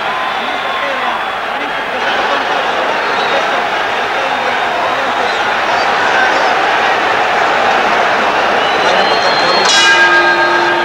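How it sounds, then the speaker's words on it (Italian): A boxing ring gong signals the second round of a Benvenuti vs Griffith fight, one bright clang ringing late over a dense, roaring crowd and continuous commentary. "suona il gong della seconda ripresa"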